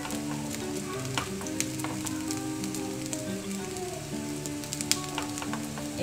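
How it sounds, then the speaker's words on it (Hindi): Aloo tikki, spiced potato patties, frying in oil in a pan over a medium gas flame: a steady, dense crackling sizzle with scattered pops, close up and with no voices. "इस तरह से अब हम इसे नीचे से एक बार गोल्डन ब्राउन कर लेंगे, फिर उसे पलट लेंगे।"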